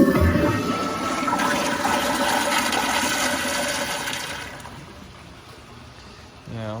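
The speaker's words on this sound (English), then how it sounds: "I'll do a couple flushes at this pressure" Kohler Kingston wall-mount toilet flushing: a loud, close rush of water that holds for about four seconds, then fades into a softer trickle and refill gurgle.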